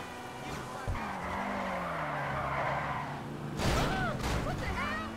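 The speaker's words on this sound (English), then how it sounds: "Let's try a wider drift again." Tires of a Maibatsu Penumbra FF squealing through a drift in GTA Online, with a sustained engine whine, rising and falling tire screech and a louder squealing burst near the end, and someone talking over it.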